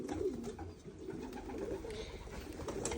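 A pigeon coos in soft, looping low phrases over about three seconds, close by with light background rustle.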